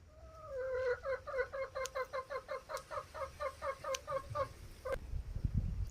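A rooster and hens in a coop give a quick run of rhythmic clucking, about a dozen evenly spaced calls close by, with a few sharp clicks and a low thump at the end.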